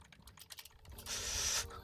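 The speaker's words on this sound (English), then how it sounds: "You can hear me spamming the keys." Computer keyboard keys are hammered rapidly during a livestreamed game, a fast run of sharp clicks that blur into a dense clatter near the microphone.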